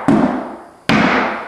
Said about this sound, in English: Then with the rubber mallet, nothing crazy.